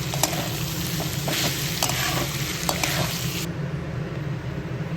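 Chicken filling with tomato sauce and garam masala sizzles and fries steadily in a pan while being stirred, a close, continuous crackle with occasional scraping strokes and no talking.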